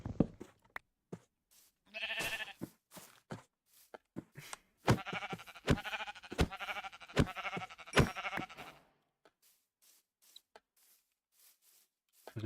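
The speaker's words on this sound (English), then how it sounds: "Look at the only sheep here." Sheep bleat repeatedly in a series of loud, wavering calls, some overlapping, with short gaps and quieter stretches between them, close by and free of any talk.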